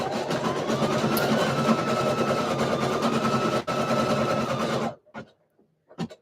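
A sewing machine stitches a shirt back and forth in a steady, loud, continuous whir for about five seconds, then stops, leaving a couple of short, quieter bursts.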